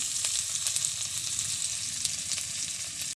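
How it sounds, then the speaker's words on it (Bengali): Onion and ginger paste fry in hot oil with dried chilli and five-spice in a pan, a dense close sizzle with light stirring scrapes throughout, ending abruptly. "ভালো করে নেড়ে চেড়ে ভালো করে ভেজে নিচ্ছি।"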